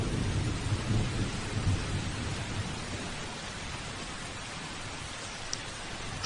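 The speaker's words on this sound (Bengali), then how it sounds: "অমনি আবার বৃষ্টি শুরু হয়" Thunderstorm with steady rain, a low rumble of thunder rolling through early on, then fading into a continuous wash of falling rain.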